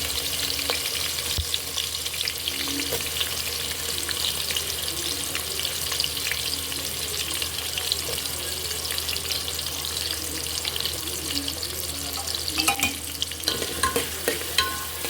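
Onion frying in a pan while being stirred for mutton biryani, a steady soft sizzle with occasional scraping strokes and a few louder clinks near the end, fairly quiet with no talking.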